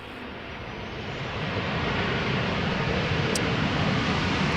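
A Georgian Airways airliner arriving at Amsterdam Schiphol roars as a broad, steady jet rush that swells slightly as it nears and stays loud throughout.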